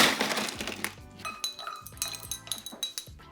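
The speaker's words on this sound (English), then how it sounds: "So I'm going to add a couple ice cubes to this" Ice cubes drop into cold water for pie crust, giving a flurry of bright glassy clinks and knocks that settle into lighter, scattered taps, close and with no talk.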